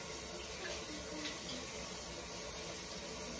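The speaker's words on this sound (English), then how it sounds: "let me wash my hands because I got to pour the Parmesan." A kitchen tap runs steadily into a sink as hands are washed, a continuous close splashing rush with slight variations and no speech.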